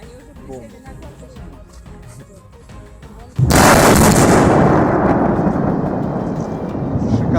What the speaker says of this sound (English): a controlled explosion was carried out, breaking through the thick layer of ice on the Tom River.